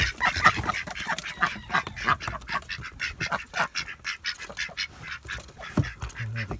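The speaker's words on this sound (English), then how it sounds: "This is where our Aylesbury ducks live. Just going to come and let them out now for their breakfast." Aylesbury ducks let out of their house for breakfast: a busy chorus of loud, overlapping quacks and honking calls throughout, close by with some outdoor background noise.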